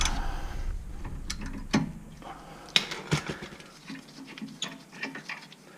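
A flex-head ratchet turns a rear brake caliper bolt on a 2010 Toyota Camry, giving quick clicking bursts and metallic taps, close and fairly faint, with scattered clatter between strokes.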